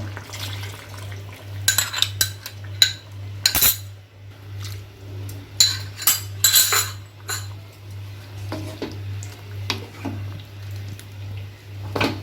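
A spoon clinks and scrapes against a pot while milk is stirred into shukto, a Bengali mixed-vegetable curry made with milk and coconut, with irregular metallic taps and soft liquid sloshing over a steady low hum.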